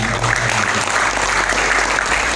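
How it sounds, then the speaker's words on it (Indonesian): Audience clapping steadily at an Indonesian junior high school (SMPN 2 Gempol) performance event, a dense, sustained burst of applause filling the room from start to finish with no talk over it. "tepuk tangan untuk Mbak"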